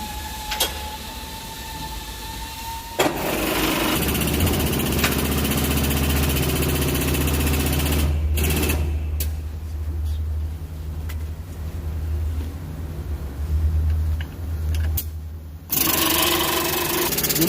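Electric or air-powered jack whirs steadily for over ten seconds as it raises a car wheel off the ground during a wheel alignment, a loud mechanical drone with a few short pauses and no talking.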